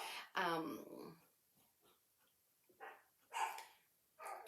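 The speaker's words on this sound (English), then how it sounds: "you'll hear my dogs going off to let me know that my next client has arrived" Several dogs bark in short bursts at moderate distance inside a home: one strong bark near the start, then scattered quieter yips and a few more barks toward the end.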